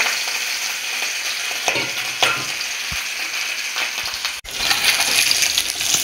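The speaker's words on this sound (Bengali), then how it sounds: "তেল গরম হয়ে গেছে, মাছটা ভেজে নেবে।" Fish fries lightly in hot oil, a steady, dense sizzle and crackle close by with a few brief stirring knocks and one short break, loud and continuous without talk.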